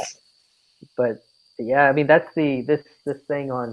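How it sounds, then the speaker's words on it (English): Crickets outdoors at night keep up a steady, thin high trill that runs unbroken beneath a man's close conversation. "I can hear the crickets in the background"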